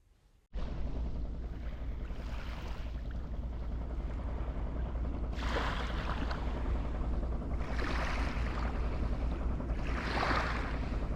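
Ocean waves on a quiet beach, heard from inside a parked van, roll in as a steady rumble with three or four softer surges washing through, with no voices.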